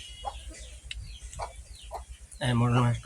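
A chicken gives several short, soft clucks, then a louder, drawn-out squawk close by near the end.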